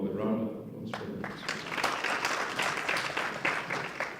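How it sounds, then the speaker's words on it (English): Audience applause for presenters at the close of a session, starting after a brief spoken moment and then building into steady, moderately loud clapping from a group that continues to the end. "A round of applause for them."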